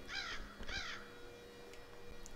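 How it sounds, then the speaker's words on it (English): A crow in a VR sandbox game gives two harsh, close caws in quick succession, followed by quiet ambience with faint distant ticks; no one speaks. "I can hear a crow."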